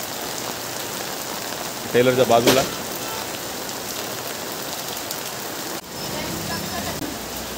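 Steady rain patters on a surface throughout at a fishing tackle shop in Murbad, with a brief burst of nearby talking partway through.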